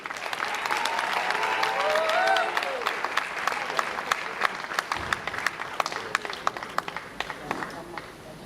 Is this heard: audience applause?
yes